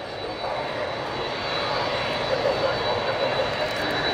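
An RAF Lockheed TriStar tanker-transport flying at the Air Tattoo air show, a continuous broad jet roar holding steady and swelling slightly, moderately loud, with crowd or commentary murmur beneath.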